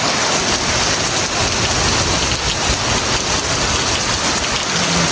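Heavy storm rain in Canada pours steadily, a dense, continuous hiss of drops close by with no pauses, loud and unbroken throughout.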